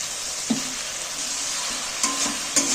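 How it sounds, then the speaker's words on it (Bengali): Spice paste with turmeric, red chilli and a splash of water sizzles steadily in a pan while being stirred, with a few sharp scraping knocks of the spoon against the pan near the end. "মশলাটাকে কষিয়ে নেব ভালো করে"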